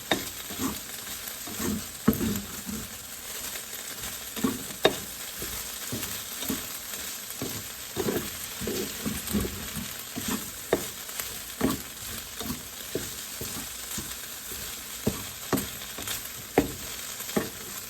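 Onions fry in a pan for Japanese shouga-yaki, a soft continuous sizzle broken by irregular scraping stirs and light utensil taps, fairly quiet and close with no voices.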